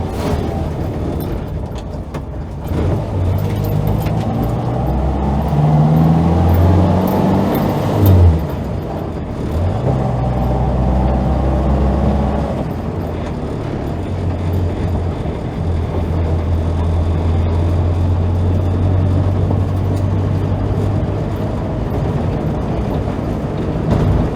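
A Morris Minor drives along English country roads, its engine giving a steady, continuous hum with slight rises and falls in pitch as it moves at an unhurried pace.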